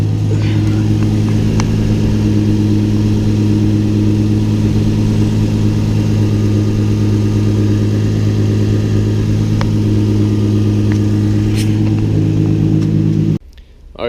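Infiniti G35 engine running shortly after a cold start, a close, loud, steady hum with strong low harmonics and little change in pitch, cutting off abruptly near the end.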